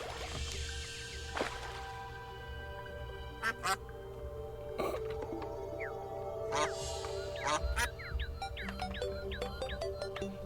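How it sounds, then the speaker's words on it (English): Ducks quack in the video game Terraria, a few short quacks scattered over a steady game soundtrack with faint chirps and tones. "You know, I never actually noticed that you can hear ducks."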